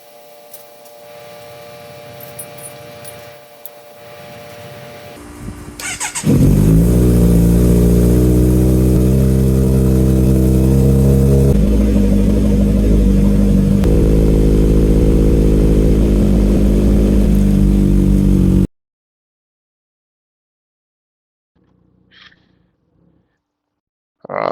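A motorcycle engine cranks and catches, then revs and pulls away steadily at close range. The drone holds loud and even, shifts pitch as it gains speed, then cuts off abruptly.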